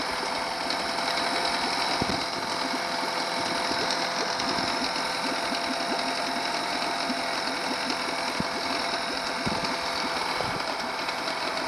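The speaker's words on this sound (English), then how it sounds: "so right now I'm idling. You know, it's a pretty good motor." DIY outboard motor with an Arduino Uno R3 speed controller idling during a first test in water, giving a steady, continuous mechanical hum with fine rhythmic knocking throughout, close and alone with no talk.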